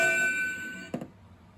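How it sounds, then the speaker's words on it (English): A ship's bell effect from an RC sound module for a model boat: a sustained metallic ringing tone that decays, then a couple of quick clanks, faint and electronic. "Then you have the ship's bell,"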